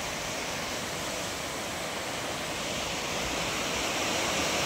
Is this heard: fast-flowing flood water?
yes